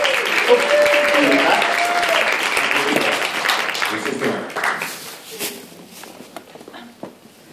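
Audience applause at a Scentsy spring sales presentation in Europe, loud and dense at first, then thinning into scattered claps and fading, with voices murmuring underneath.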